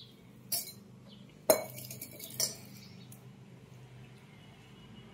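Utensils clink against metal and glass while boiled tea water is strained for henna, three distinct bright clinks spaced about a second apart over a quiet background.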